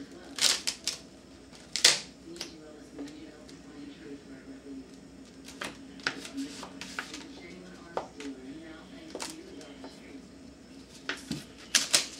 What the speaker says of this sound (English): And then you just tape it up.